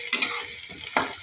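Onions fry in a pan with a spoonful of sugar and a bay leaf, giving a steady sizzle punctuated by a few sharp scrapes of a spoon stirring against the pan.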